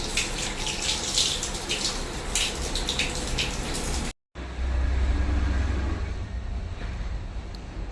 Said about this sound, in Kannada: ಸೊ ಫೇಸ್ ವಾಶ್ ಮಾಡಿ